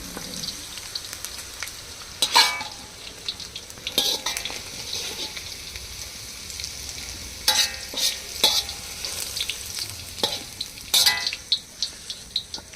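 Peanuts dry-roasting in a pan for coriander chutney get stirred with a spoon, giving scattered close scraping strokes over a soft, continuous sizzle and rattle.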